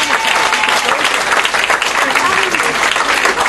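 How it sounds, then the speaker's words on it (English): An audience at a comedy stage hypnosis show applauds, a loud, dense, sustained wash of clapping from a crowd filling the whole moment, with some voices mixed in. "so a round of applause for the stars."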